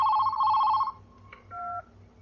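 Telephone ringing in the Bollywood thriller Darr, two bursts of an electronic ring, the first longer, the second short and softer, over a quiet low background hum.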